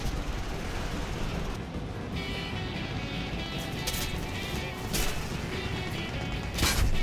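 Gunfire striking an aircraft in War Thunder, with a few sharp impact cracks and bursts over a steady engine drone, louder near the end.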